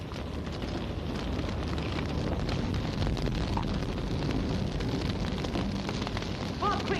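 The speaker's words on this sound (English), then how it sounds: "The barn's on fire!" A barn fire roars as a broad, steady crackling rumble, loud and continuous throughout, with no distinct voices standing out.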